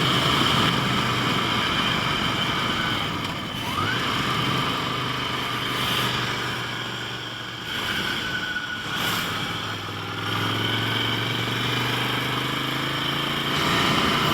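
A Ducati Desert Sled motorcycle rides off-road at Lac du Salagou and crosses through water. Its engine drones steadily and close for the whole stretch, with a broad, noisy wash over the top and a few swelling surges.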